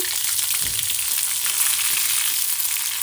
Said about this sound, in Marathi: अद्रक लसूण पेस्टला आपण फ्राय करणार आहोत